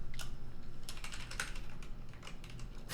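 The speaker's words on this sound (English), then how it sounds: "why do you think looking at you while I'm typing is flexing my typing?" Computer keyboard typing in bursts of quick clicking keystrokes, close and fairly loud, with brief pauses between flurries and no talking.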